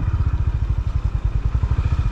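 A Honda CB350 RS motorcycle engine idling close by, a steady low thumping beat with an even, rapid pulse.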